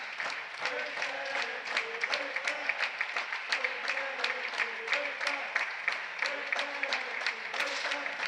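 Local audience applauding at an air rifle U16 women's final of a European championship in Tallinn, steady dense clapping throughout with a faint voice beneath.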